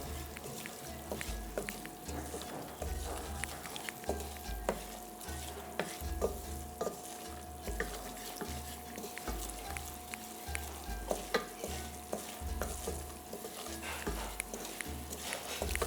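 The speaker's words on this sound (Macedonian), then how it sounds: "Еве го почнува да се пржи." Kasha sizzles in hot oil in a pan while a utensil stirs it, a steady low frying hiss broken by regular scraping and clinking strokes, with no voices.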